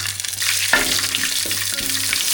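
Whole spices such as cinnamon fry in hot oil with a continuous close crackling sizzle, punctuated by a couple of short sharper pops as more goes into the pan.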